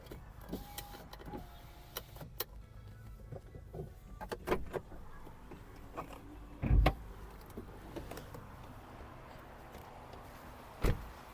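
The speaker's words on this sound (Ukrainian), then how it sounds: "По електриці склопідйомники працюють" Electric power windows of a 2011 Volkswagen Caddy whir up and down in short motor runs, with a couple of sharp clunks as they stop, close by and quiet.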